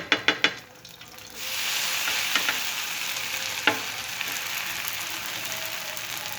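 Bread toasts on a hot pan in ghee, giving a steady crackling sizzle that follows a few sharp taps at the start and stays close and even throughout, with no voices.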